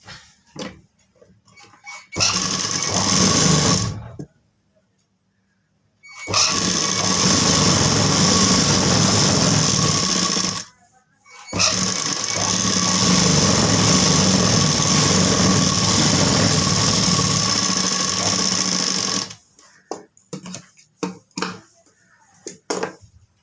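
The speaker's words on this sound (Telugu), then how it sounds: "దీన్ని ఇలా కుట్టేసుకోవాలి" An electric sewing machine stitches a blouse in two long, steady whirring runs broken by short pauses, loud and close, followed by a few scattered handling clicks.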